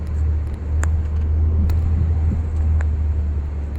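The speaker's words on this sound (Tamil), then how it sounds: "ரேப்பிடாக அடிச்சிட்ருக்கோம். ஸோ 3000 RPM நம்ம மிதிச்சிட்ருக்கோம்." Ford EcoSport with 1.5 lakh km on it, engine pulled hard to about 3000 RPM, a steady, loud low drone and rumble from inside the cabin, with road noise, and no voices.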